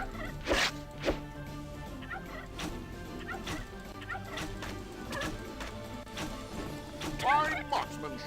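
Turkeys gobble in bursts amid noise from the video game CastleStorm, with thumps and crashes scattered throughout and a louder rattling boss-turkey gobble near the end.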